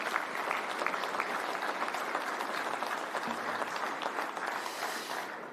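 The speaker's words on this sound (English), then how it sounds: "A round of applause for all of our finalists." Sustained audience applause at a Fieldays Innovation Awards evening, a dense steady patter of many hands clapping for the finalists, moderately loud and continuous, tapering slightly at the end.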